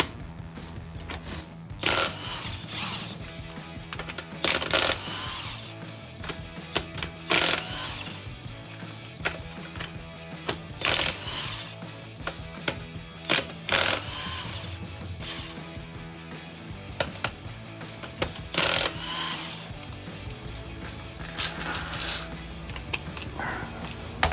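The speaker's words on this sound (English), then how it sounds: "First, we need to start off by removing the lug nuts, 21 millimeter." A power tool removes 21 mm lug nuts from a Ford F-150 wheel. Its whirring bursts come in repeated sharp, loud pulses and are separated by brief pauses, with clanks and mechanical rattles in between.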